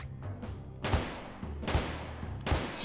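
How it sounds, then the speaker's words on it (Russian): Three loud gunshots fired in quick succession in the gangster video game Mafioso, each a sharp broadband blast about three-quarters of a second apart, over a low game soundtrack. "Три выстрела к ряду."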